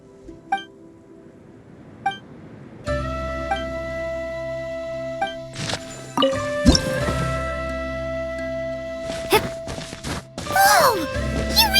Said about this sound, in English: Wow, another water droplet just came out from the wall!